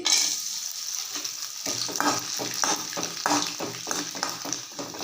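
Rice koozh vadam, a fritter made from ration raw rice, fries in a pan of hot oil with a steady bright sizzle and bursts of bubbling crackle. It stays close and continuous, with no talking.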